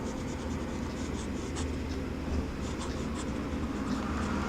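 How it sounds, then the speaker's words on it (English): Noodler's Boston Safety fountain pen writing on paper with ink containing metal particles, faint scratchy nib strokes in short, soft bursts over a steady low background hum, no speech. "If I write with this pen,"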